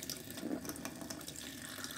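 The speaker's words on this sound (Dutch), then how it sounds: "Ik doe gewoon de kraan een klein beetje aan." A kitchen tap is opened a little and water runs steadily into a sink, a quiet continuous splashing hiss with no voices.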